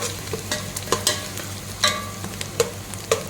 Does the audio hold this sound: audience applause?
no